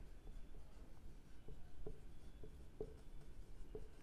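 A teacher writing on a board in a classroom, producing soft, intermittent taps and strokes at an uneven pace, faint and close, with no voices.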